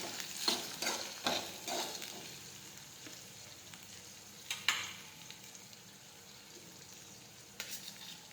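Okra is sautéed in a pan, soft sizzling under scattered stirring scrapes and clinks, the clatter fading from busy to quieter over several seconds, no talking.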